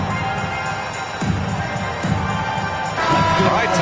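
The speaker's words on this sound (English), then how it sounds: "Fans, please give a big round of applause for your dance team." A large crowd at a football game cheers and claps for the dance team, a steady roar of noise that swells louder near the end.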